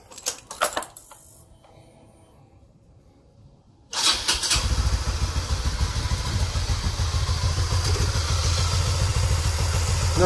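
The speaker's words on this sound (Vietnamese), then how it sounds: "để tôi nổ máy cho các bạn xem coi nó còn kêu không nha" Honda Winner 150 motorcycle with an adjusted cam chain tensioner: a few clicks and cranking, then the engine catches and settles into a loud, steady, close idle with a faint ticking.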